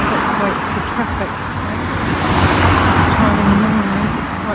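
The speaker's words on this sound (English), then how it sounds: "Let's wait for traffic." Busy morning traffic on a street in the historic town of Bungay rolls steadily past nearby, a continuous loud roar of cars and larger vehicles with a voice faintly beneath it.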